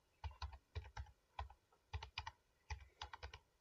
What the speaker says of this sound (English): I'm typing like you type in computer lab or in anywhere, with one hand and one finger.